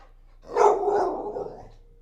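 A single dog barks once, a short, close, moderately loud woof with a growly tail that fades after about a second.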